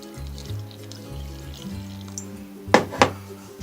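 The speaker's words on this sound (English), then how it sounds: "just enough water to turn this all into a held together kind of dough." Water poured into flour while mixing hardtack dough, heard as a soft, steady trickle over a low musical hum, ending in two brief splashy bursts near the close.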